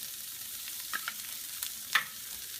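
Shishito and serrano peppers being stirred in a frying pan, a steady soft sizzle broken by a few scraping stir strokes, close and fairly quiet with no talking.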